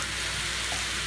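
Tomato goes into garlic, chili and ginger frying in hot oil, giving a loud, continuous close-up sizzle that holds steady for the whole moment with no talking.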